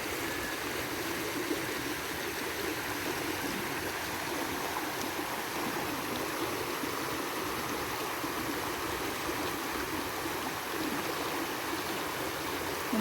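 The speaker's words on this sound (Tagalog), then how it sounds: "Grabe, ang lakas ng agos ng tubig" Strong floodwater current after heavy rain rushes in a constant, dense roar that continues without a break and without voices.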